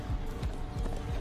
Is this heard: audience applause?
no